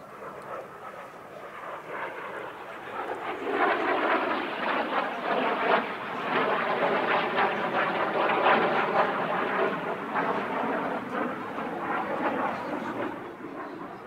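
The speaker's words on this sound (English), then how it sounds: "Here comes Mark Hooton in the Jet Provost T3A" A Jet Provost T3A jet trainer passes at an airshow, a broad steady roar of jet engine rising after a few seconds and holding loud and sustained before easing slightly at the end, with no talk.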